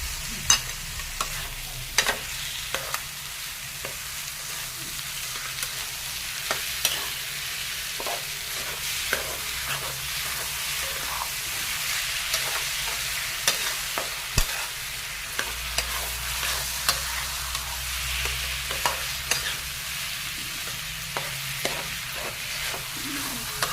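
A Maharashtrian ambadyachi bhaji being sautéed in a pan, with a continuous sizzle and frequent short scraping stirs at a steady, close-up pace.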